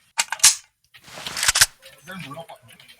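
Sharp, loud gunshot-like cracks from a video game, a couple of quick bursts near the start and again around the middle, with people talking and reacting excitedly around them.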